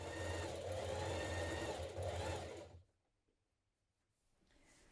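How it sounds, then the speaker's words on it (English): Sewing machine running a twin needle to top stitch a spring top, a steady, loud, close mechanical whir that stops abruptly partway through, leaving near silence before a faint sound returns. "use your twin needle again to top stitch it"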